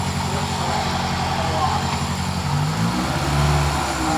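Toyota Celica GTS with a 2ZZ-GE engine idling steadily while warming up, a close low hum beneath people talking.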